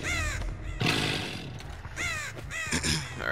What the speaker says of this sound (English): I heard a crow probably about another lane over here.